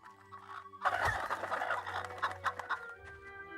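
A chicken in the video game Fable clucks and squawks in a sudden flurry of agitated, close cries as it is kicked, then settles into a few scattered clucks, with no talk.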